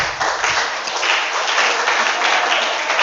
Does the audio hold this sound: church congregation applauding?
yes